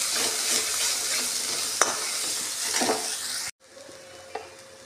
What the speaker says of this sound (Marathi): आता मसाला घालते. मसाला भाजून घेते.